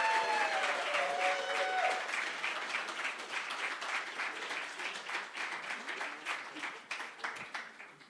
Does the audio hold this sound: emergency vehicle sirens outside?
no